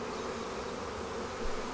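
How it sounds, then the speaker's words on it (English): Dense, steady buzzing of many honeybees close by at an open hive, a continuous droning hum with no pauses. "we have a lot of bees, but this is a bee video, so of course we're gonna have a lot of bees"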